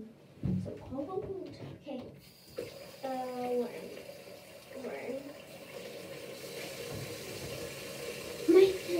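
Cold water runs from a tap in a sink, a steady splashing wash that carries through the whole clip under intermittent nearby talking, with a brief louder splash near the end.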